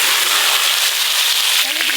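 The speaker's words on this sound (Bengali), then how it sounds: "আলুগুলো ভালো করে ভেজে নেব।" Potatoes, cut and washed, frying hard in oil in a pan while goat-meat curry is prepared, giving a loud, dense, continuous sizzle and crackle that stays steady throughout.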